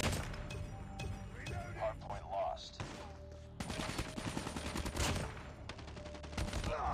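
KN-44 gunfire in Call of Duty Mobile, rapid automatic bursts and shots running almost continuously in the game mix, with a player talking over it.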